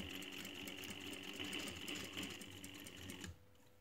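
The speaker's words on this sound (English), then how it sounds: "I'm going to make a 1 cm seam," A sewing machine stitches a 1 cm seam along a pocket flap, running in a steady close-up whir for about three seconds before stopping abruptly near the end.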